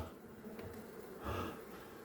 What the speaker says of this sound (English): Now obviously there's going to be more and more bees each time I bring this out.